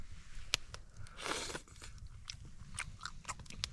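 Close, quiet biting and chewing of cooked trout meat, with a soft crunch at the first bite followed by scattered small wet mouth clicks and chewing sounds, no talk.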